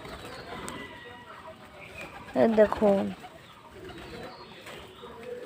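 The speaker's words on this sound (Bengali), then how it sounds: "দেখুন কত কবুতর" Pigeons, including white Giribaz birds, cooing in a loft: a short burst of soft, throaty coos mid-clip over faint room noise, with a brief spoken word nearby.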